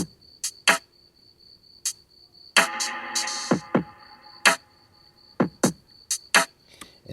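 A hip-hop drum loop plays a sparse second pattern of crisp percussive hits and snappy transients over a steady high-pitched tone, with one brief noisy burst, fairly quiet and with no voices.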